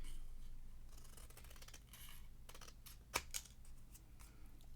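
Quiet scissors cut out a handmade paper Christmas tag, with a few soft snips and rustles and one brief sharper snip near the end over faint room hiss.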